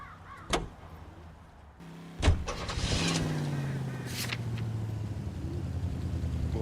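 A car in L.A. Noire: a door thump, then a second thump as the engine starts and settles into a steady idle rumble, close and moderately loud, without talk.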